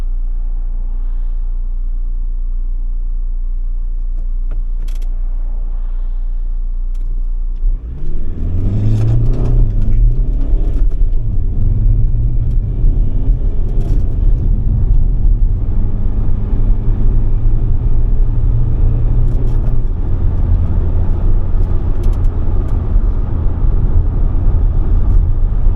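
Ford Transit Custom van with a new turbo and remap pulling away hard uphill, engine droning loud and steady after a quiet start, revving high and sustained for about eighteen seconds.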